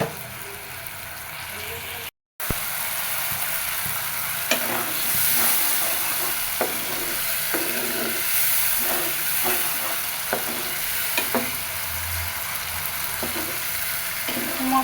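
Spice paste with sugar and onions sautéed and stirred in a pan for a rohu fish head curry, a steady sizzle with repeated scraping stir strokes throughout, close and fairly loud, with a brief dropout early on.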